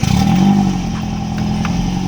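A Nissan 240SX with a newly installed engine starts up in a garage, giving a loud opening rev that settles into a rough, clattering idle close by.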